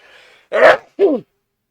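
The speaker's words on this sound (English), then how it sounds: "I'm just going to sneeze" A sharp sneeze in two bursts, an intake then an explosive release, following a faint murmur of voice; close and loud.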